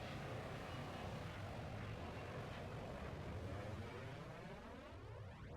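An F-16C Viper jet taking off in the flight game VTOL VR, a constant faint roar of engine noise with a sweeping, rising whoosh as it passes.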